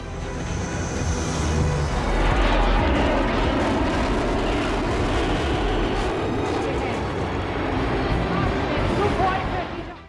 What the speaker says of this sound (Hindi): पूर्वांचल एक्सप्रेसवे पर टच एंड गो ऑपरेशन को अंजाम देते भारतीय वायुसेना के ये लड़ाकू विमान।